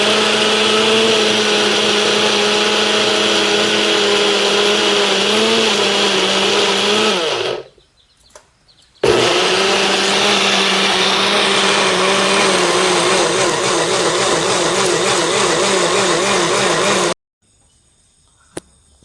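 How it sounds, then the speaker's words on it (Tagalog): A blender chops small-cut ingredients for homemade probiotics, running loud and steady in a long whirring burst, stopping briefly, then whirring again for several seconds before cutting off into quiet. "At ating i-blender pagkatapos nating hiwa-hiwain ng maliit para hindi mahirapan yung ating"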